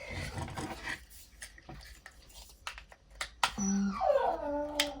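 Millie, a pet dog, whines and whimpers close by in rising and falling high-pitched cries, strongest in the last second and a half, over faint clicking and rustling.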